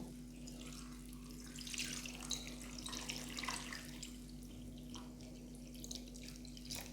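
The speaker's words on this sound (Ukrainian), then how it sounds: "і заливаю холодною водою" Steady cold running water from a tap filling a pot, a continuous close splashing rush with no talking.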